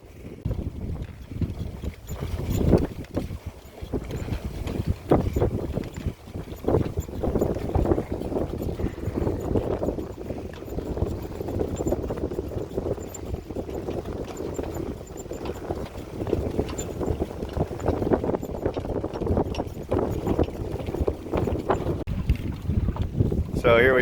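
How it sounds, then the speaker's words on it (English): A sailboat under way in the wind on Puget Sound off Blake Island, with steady rushing wind and water noise buffeting the microphone throughout, fairly loud and constant. "So here we are sailing around Blake Island, headed east to the east side"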